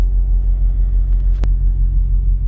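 Semi truck engine idles loud and close with a deep steady rumble while reversing to slide the trailer tandems on a 53-foot trailer, broken by one sharp brief click partway through.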